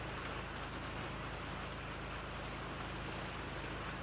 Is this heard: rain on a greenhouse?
yes